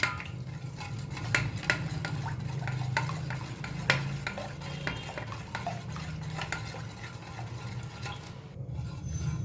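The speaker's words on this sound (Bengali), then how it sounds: "এবারে খুব ভালো করে কিন্তু এটা মিশিয়ে নিতে হবে।" A spoon stirs and scrapes through a mango and yogurt mixture for sweet curd in a pot, giving a continuous run of close, soft scraping and small clicking taps, steady and unhurried, with no voices.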